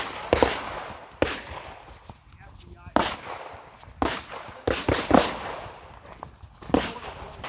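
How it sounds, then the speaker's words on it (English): Snub-nose revolver shots fired into ballistic gel during defensive-ammunition lab testing, several sharp loud reports at irregular intervals, with people talking in between. "we're walking up to Chuck Haggard doing some ballistic lab testing, showing what different snubby bullets do."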